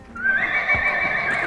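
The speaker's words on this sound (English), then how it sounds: "So this horse, we're just checking her out." A mare at a horse shelter lets out a loud, close, sustained neigh. The whinny wavers in pitch over about a second, and faint hoof clops sound beneath it.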